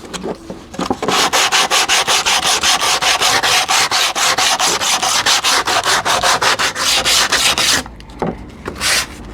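Sandpaper is rubbed along the edge of a wooden board in fast, loud, even strokes, with a short pause and a few final strokes at the end.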